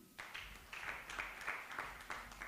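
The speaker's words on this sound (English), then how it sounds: "a big hand clap for our production team" Audience applause for a conference production team, fairly faint and distant-sounding: a steady patter of hands with a few sharper individual claps standing out, no voices over it.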